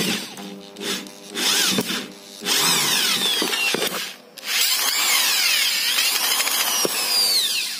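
An iBell electric screwdriver whirs as it drives a screw into a workpiece, running in loud sustained bursts with rising and falling motor pitch, separated by short pauses, heard up close.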